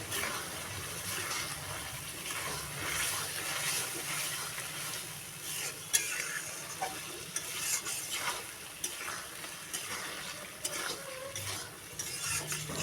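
Pre-fried pointed gourd (potol) being stirred in hot oil and spices, steady sizzling and frying with scraping spoon strokes against the pan and occasional clinks, continuous and close.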